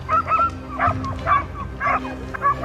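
Hunting dogs on a wild boar hunt give several short barks and yips in an uneven series, fairly close and clear over a low background.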